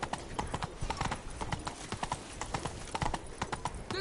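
Horse hooves clip-clopping in the video game The Witcher 3: Blood and Wine, a quick, steady patter of hoofbeats close up, about three to four strikes per second throughout.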